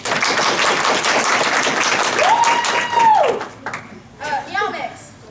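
Lively audience applause voting for a contestant at a convention panel, clapping mixed with cheers and a long excited whoop, then fading into scattered voices and chatter.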